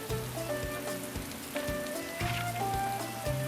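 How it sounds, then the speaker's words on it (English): Steady rain falling in the video game Atelier Ryza 2, a continuous wash of patter under soft game music tones, with no talking. "I'm gonna have to stand around and talk to Cassandra in the rain"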